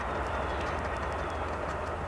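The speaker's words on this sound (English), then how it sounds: "that was a quick train" A train rushes past close by, a loud, steady roar of wheels and rail noise that fills the whole moment without a break.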